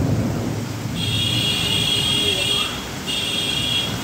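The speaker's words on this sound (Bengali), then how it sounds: "দেখো এই দেখো কি জোরে বৃষ্টি হচ্ছে" Heavy rain pours down in a steady, loud, broadband roar, with a thin electronic-sounding tone sounding twice over it. No distinct thunder clap stands out.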